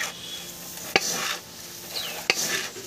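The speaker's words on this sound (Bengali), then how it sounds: "এটাকে আমি প্রথমে একটু নেড়ে চেড়ে নেব" Jhal muri, a spiced puffed rice mix, being stirred in a bowl, giving a dry rustling scrape close by with two sharp clinks from a spoon against the bowl.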